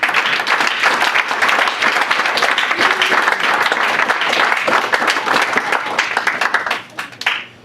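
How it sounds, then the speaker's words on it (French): A church congregation applauds loudly and steadily, a dense wash of many hands clapping throughout that tapers off near the end. "Je crois que vous allez applaudir mieux que ça."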